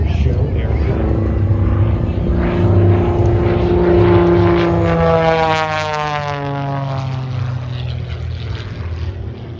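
A 1956 de Havilland DHC-1 piston trainer flies low-level aerobatics at an air show, its propeller engine droning loudly and steadily with a rising then falling pitch as it passes close overhead.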